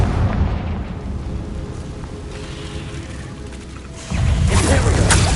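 A Confringo blasting spell explodes in the Hogwarts Legacy video game, heard as a long rumbling blast that fades out and then gives way to a second loud burst.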